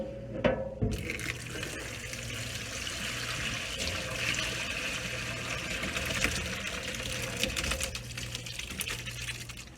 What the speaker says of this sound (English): I like to go ahead and have my colander down in this sink, and I just pour my water in slowly.